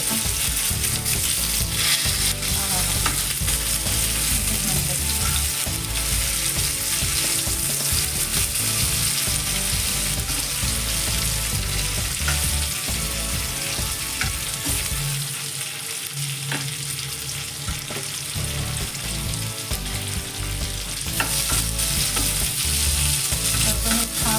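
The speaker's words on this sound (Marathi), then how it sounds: "तर मासे एका साईडचे आपले फ्राय झाले म्हणजे आपण एका साईडमध्ये त्याला फ्लिप करूया." Bangda mackerel fish fry sizzles steadily in a hot pan, a dense continuous crackle with occasional scraping and stirring clatter, close and loud throughout with no talking.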